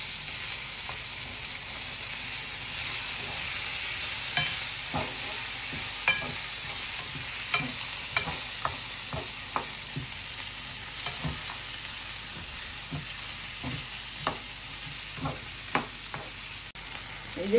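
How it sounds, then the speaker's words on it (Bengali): Butter sizzles in a frying pan with tomato and onion for butter chicken, a steady close hiss broken by a series of scraping stirs and clicks of the spoon against the pan. "এই যে আবার এখন একটু বাটার দিয়ে দিলাম।"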